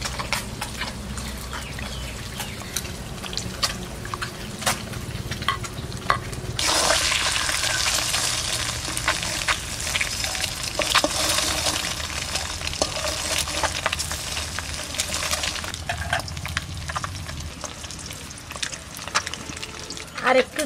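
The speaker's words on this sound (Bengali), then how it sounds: "আর একটু জল দিয়ে দেবো।" Water is poured into a cooking pot of tamarind-based sour egg curry with nalte greens, a sudden rushing splash that runs steadily for several seconds over a background sizzle, with a voice speaking intermittently.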